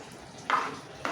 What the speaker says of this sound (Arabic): نقلب الرز كده